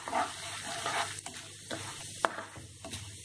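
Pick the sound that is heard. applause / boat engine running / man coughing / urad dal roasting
urad dal roasting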